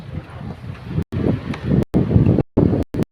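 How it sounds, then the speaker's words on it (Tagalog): Strong, gusty wind batters the microphone outdoors in loud rumbling bursts, broken by several abrupt silent dropouts. "Ang hangin."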